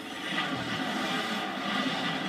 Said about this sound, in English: Oh, look, it's a train.